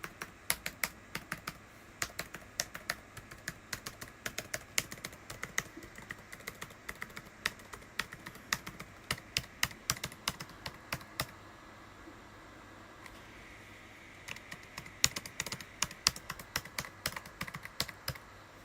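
Clicking keystrokes on a laptop keyboard come in irregular bursts with brief pauses, close and fairly quiet.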